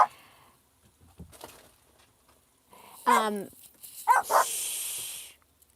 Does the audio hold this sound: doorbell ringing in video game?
no